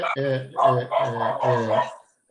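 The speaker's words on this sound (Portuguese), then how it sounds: "tem um cachorro querendo participar da nossa reunião" A dog barks several times in a row at close range, each bark loud and drawn out with a whining edge, during an online meeting.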